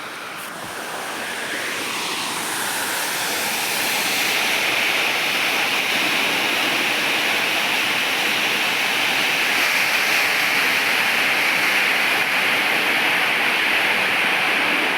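Water pours down a 20-foot waterfall in a steady, loud rushing roar. It builds over the first few seconds, then holds constant with no voices.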